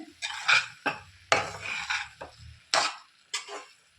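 A spoon stirs tomato rice in a metal pot on a switched-off stove, making irregular scraping and clanking strokes against the pot with short quiet gaps between them, close and fairly loud.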